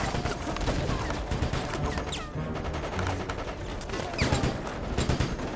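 Automatic gunfire rattles in rapid bursts in the Resident Evil: Operation Raccoon City video game, dense and continuous at moderate level, mixed with game clatter and crashes.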